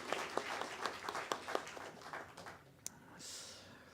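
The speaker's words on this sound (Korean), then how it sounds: "우리 다 같이 하나님께 영광의 박수 다시 한번 올려드리도록 하겠습니다" Congregation clapping during a Sunday church service, a burst of applause with sharp claps near the start that thins out and fades toward the end.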